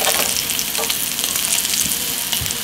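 Scallops sear in a hot frying pan with a steady, loud, continuous sizzle and crackle, with a few soft stirring or shifting sounds. No one speaks over it.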